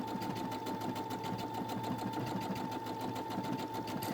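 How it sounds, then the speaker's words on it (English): Sewing machine stitching a decorative pattern by itself, a close, steady mechanical whirr with rapid rhythmic needle clatter that runs without pause. "I want the machine to go on its own without me having to start and stop it."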